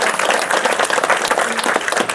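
An audience at a spiritual exhibition gathering claps in steady, dense applause, loud and continuous throughout.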